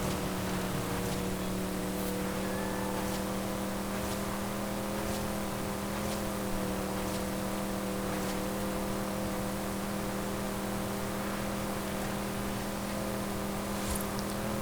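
Chevrolet El Camino ute with an upgraded five-speed gearbox drones steadily in Forza Horizon 5, a continuous close engine hum holding a constant pitch with no talk over it.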